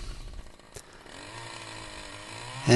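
A small Husqvarna T435 chainsaw cuts through oak, its steady engine drone holding under load for a couple of seconds before a sharp rise in loudness at the end.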